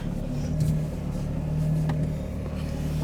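A car drives slowly over rough wooded ground, with a steady low engine rumble, faint interior hum and a few soft knocks and bumps from the uneven surface.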